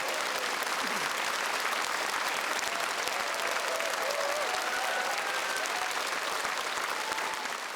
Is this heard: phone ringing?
no